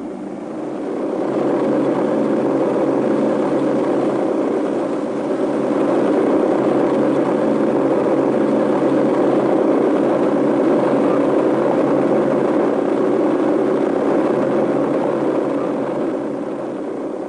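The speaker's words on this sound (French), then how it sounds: "L'utilisation poussée à l'extrême de ces hélices à pas réversibles pouvait être très spectaculaire" Lockheed Constellation piston engines driving reversible-pitch propellers, a sustained loud droning roar that holds steady for the whole stretch with no voices.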